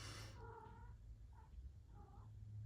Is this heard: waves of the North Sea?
no